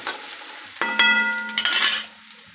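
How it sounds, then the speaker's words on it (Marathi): Chopped onion stirred and sautéed in a hot pan, a steady close sizzle with scraping spoon strokes and a brief metallic clink partway through, no talking. "असा कांदा परतवायचा, जरा हलवायचं याला."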